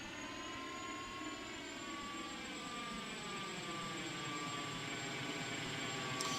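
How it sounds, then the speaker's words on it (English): A big, heavy airliner at takeoff power on the runway in the Aerofly Professional flight simulator, a loud, steady jet roar with whining engine tones that slowly rise in pitch, continuous and without talk. "On the runway, we're giving it takeoff power, and here we go."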